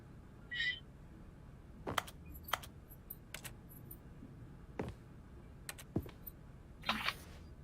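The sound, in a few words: keyboard typing sounds in video game The Stanley Parable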